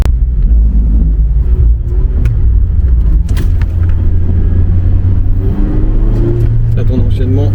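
A stock 1.5-litre Mazda MX-5 ND engine revs hard while drifting and rumbles loudly throughout, rising and falling in pitch, with someone talking over it.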